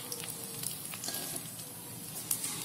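Bread slices fry in oil for shahi tukray, a soft steady sizzle with faint crackles, brief and fairly quiet.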